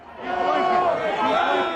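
Pro-Trump crowd clashing with police at the Capitol, a dense roar of many shouting voices rising and holding steady, with yells and cries layered close over the mass.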